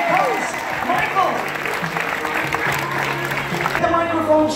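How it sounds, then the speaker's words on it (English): Applause from an audience in the Ovation Theatre for a man about to propose, a steady dense patter of hands across the whole stretch with voices talking over it. "Give him a round of applause."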